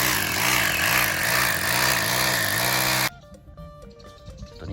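Power drill boring holes into a wall for plastic wall anchors while mounting a waterproof box for an outdoor lamp and doorbell, a loud steady whirring buzz for about three seconds, then stopping abruptly into quiet clicks and handling noise.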